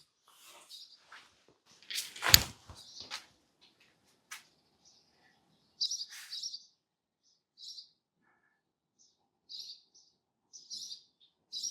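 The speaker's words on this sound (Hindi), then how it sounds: "सिर्फ पक्षियों की आवाज़ सुन रही है मुझे।" Birds chirp and tweet in short, spaced bursts across a quiet mountain mud village in Pin Valley, with one louder near call standing out among fainter distant song and near silence between.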